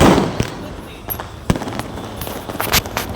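Firecrackers bursting during an Independence Day celebration on 15 August in India, a string of sharp, loud cracks at irregular intervals with a heavy opening blast, distant pops and a brief voice in the background.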